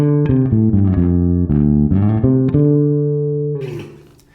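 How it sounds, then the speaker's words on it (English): A bass guitar is played through a Darkglass Anagram metallic reverb effect: a run of plucked notes rings out, then the last note sustains and fades into a shimmering, wiry reverb tail. "As I hit the strings, you'll hear the reverb effect."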